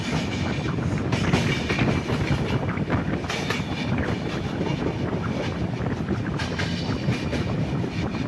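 Inside a sleeper class coach of the KSR Bengaluru Express, the train rolls along with a continuous broad rumble, wheel clatter and rushing air, loud and steady throughout with no voices.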